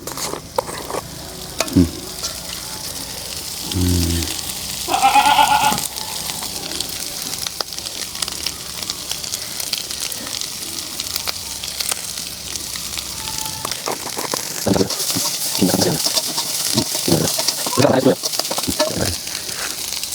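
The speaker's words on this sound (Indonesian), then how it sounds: "kita tumis." Tempeh and basil stir-fry in a hot pan for sambal tempe kemangi, a steady sizzle with scraping stirs and clinks of a utensil, while a voice talks over it now and then.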